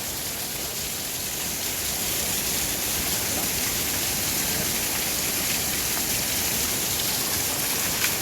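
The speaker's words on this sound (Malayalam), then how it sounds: "താഴത്ത് കൂടെ അതാ അരുവി പോകുന്നുണ്ട്." A small stream runs beneath a little bridge near Thusharagiri waterfalls, a steady, dense wash of flowing water close by, unbroken and without voices.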